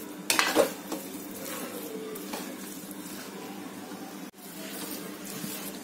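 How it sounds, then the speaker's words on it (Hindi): Sabudana and potato khichdi is stirred continuously in a pan, a close soft sizzle under steady scraping of the spoon, with a sharp clatter near the start. "अब इसको 2 मिनट तक हम ऐसे चलाएंगे, इसको रोकेंगे नहीं"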